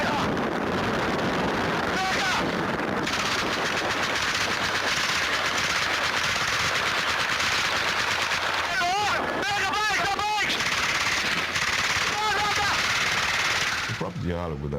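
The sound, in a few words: gunfire from a police helicopter over a residential neighborhood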